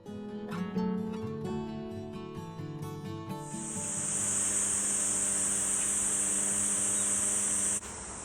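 Music plays briefly, then gives way to a loud, continuous high-pitched cicada drone at a summer campground in Daegu that holds steady until it stops just before the end.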